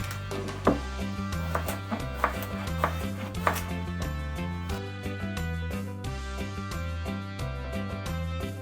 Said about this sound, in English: We're gonna slice some carrots